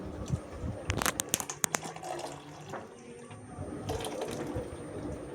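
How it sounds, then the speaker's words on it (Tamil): Water pours into a pot to dissolve masala for a fish kuzhambu, a steady close splashing stream with a burst of louder sloshing early on, then continuing more evenly. "தண்ணி ஊற்றலாம், நல்லா கரைச்சிக்கலாம்"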